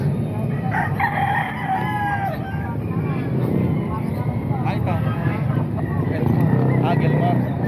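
Roosters crow repeatedly at a busy market, several calls overlapping near and farther off over constant crowd noise, with people talking throughout.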